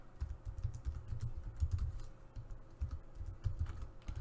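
Soft, rapid clicking of keys on a computer keyboard in an irregular typing rhythm, quiet and close, with no talking.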